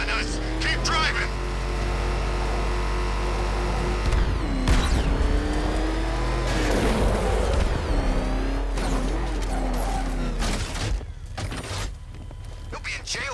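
A car in Batman: Arkham Knight roars loudly and steadily, its engine pitch rising and falling as it shifts and accelerates, with voices talking over it and a few sharp impacts near the end.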